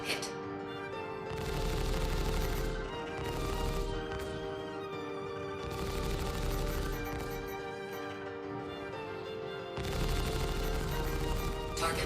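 Ship guns in the Star Citizen video game firing at NPC targets, heard as dense bursts of rapid fire in several long runs over a steady tonal engine drone, fairly loud and close.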